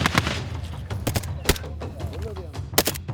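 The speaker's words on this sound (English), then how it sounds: "the foot soldiers covering the village suppressed the ISIS fighters hiding inside with a mixture of light and heavy weaponry" Gunfire from light and heavy weapons cracks in sharp, irregular bursts around a village during the battle for Mosul, with single shots and short volleys at mixed distances and voices underneath.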